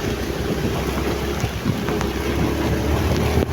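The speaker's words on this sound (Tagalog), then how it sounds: "biglang bumagsak yung ulan takas takas ng ulan" Steady, dense sudden downpour in Lambunao and Badiangan, Iloilo, Philippines, pouring down close by, a constant broadband hiss with occasional low rumbles underneath.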